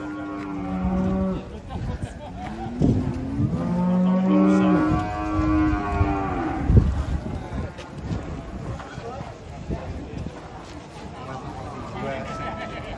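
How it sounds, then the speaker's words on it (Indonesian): Large black cattle mooing repeatedly while being unloaded from a truck at a busy livestock market, with loud people talking throughout and wind noise on the microphone. "Kita kedatangan sapi Malbor cukup ganteng di Pasar Delok."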